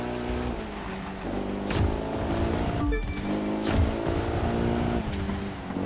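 Engines of hypercars racing in the video game The Crew 2, a steady loud mechanical drone with shifting pitch and brief swells, continuous throughout with no talk.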